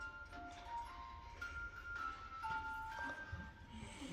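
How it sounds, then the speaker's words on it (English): Ice cream truck jingle from a small noise-making toy: a faint, thin melody of short tonal notes over low background noise, quiet and close, with no speech. "That was the ice cream truck noise"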